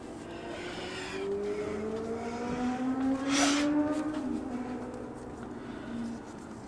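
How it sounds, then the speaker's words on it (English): A motorcycle engine revs outdoors in the distance, its pitch rising and falling over several seconds before fading slightly. "someone's having fun on a motorcycle"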